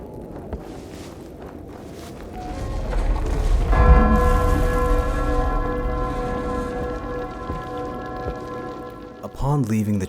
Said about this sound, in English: You enter the church and ring the bell to call people to worship